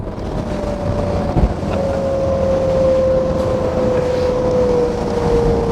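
A Fugu 29 RIB motorboat running at speed at sea, with a loud steady engine drone and a sustained whine, mixed with rushing water and wind buffeting the microphone, no talk.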